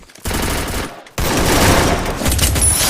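Automatic gunfire in a Free Fire battle, two loud sustained bursts of rapid shots, the second longer and heavier after a brief gap.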